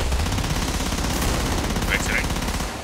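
Machine gun fire from the co-op shooter game Killing Floor rattles nonstop in one dense, loud automatic burst that fades a little at the end.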